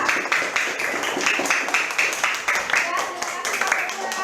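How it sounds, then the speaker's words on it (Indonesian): Classroom clapping for a student group, a loose scatter of claps from a small group of pupils mixed with voices and room chatter, fairly near and moderate in level. "Beri tepuk tangan untuk kelompok 2."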